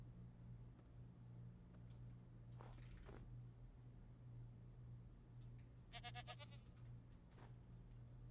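A goat bleats in the Minecraft video game, a short faint wavering bleat near six seconds, with a brief clickier sound just before and after, over a low steady hum.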